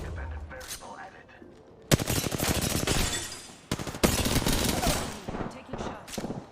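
Rapid automatic gunfire bursts from Apex Legends, two sustained volleys of quick shots separated by short gaps, loud and close, with a brief voice under the firing.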